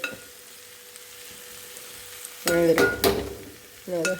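Dried chili, coconut and onion frying in a pan while being stirred: a low sizzle runs under a steady hum, then bursts of loud scraping and clattering from the stirring utensil come close up near the end.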